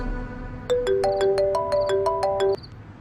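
A mobile phone ringtone plays loud and close during an outgoing call, a bright repeating melodic tone pattern of short stacked notes that runs for about two seconds and then stops, with no talking over it.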